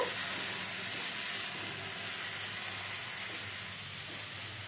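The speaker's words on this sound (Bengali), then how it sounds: "পোস্ত কাঁচা লঙ্কা দিয়ে ভালো করে মিশিয়ে নেব।" Elephant-foot yam stems being stirred with poppy seed paste and green chili in a pan, giving a quiet continuous sizzle and hiss that fades slightly over a few seconds.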